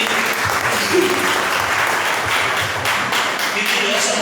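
A church congregation breaks into sustained, dense applause throughout, a full crowd clapping steadily with a voice faintly underneath.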